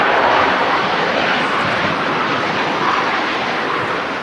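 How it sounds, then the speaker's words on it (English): A Boeing 787 Dreamliner departs from Manchester Airport, a loud sustained roar of jet engines that holds steady and slowly fades as it climbs away. "there's another Dreamliner about to go out"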